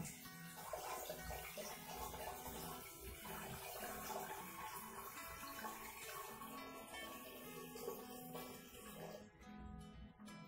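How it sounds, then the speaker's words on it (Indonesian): Water pours continuously into an aquascape tank, a steady rushing, bubbling splash that stays fairly even throughout, with a faint voice briefly underneath. "Ternyata agak lama, jadi langsung saya tuangkan aja."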